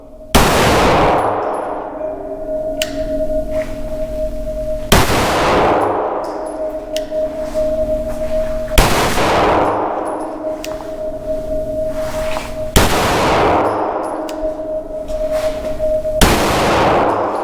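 Compensated pistol shots ring out against steel targets in a few spaced groups over about seventeen seconds, each sharp loud crack followed by a long metallic ringing tail, with no talking.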